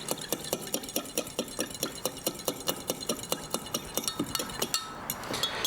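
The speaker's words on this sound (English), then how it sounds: "Giving that a stir." A utensil stirs a small sesame oil dipping sauce with fish sauce in a dish, making quick, regular clinking taps close by, about four per second, before ending in a brief scrape.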